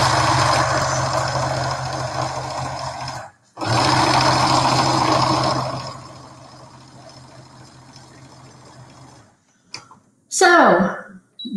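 A domestic sewing machine stitches a flat-felled seam on denim jeans in two loud, steady bursts split by a short pause, then runs more quietly before falling silent, ending with a few brief clunks.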